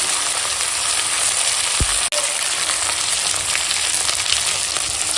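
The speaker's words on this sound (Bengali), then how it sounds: "এখন দিয়ে দেব টমেটো কুচো, আর দিয়ে দেব আদা রসুন বাটা" Chopped tomato and ginger-garlic paste sizzle steadily in a hot pan with fried potatoes, a continuous loud hiss broken by a single sharp clank near the middle.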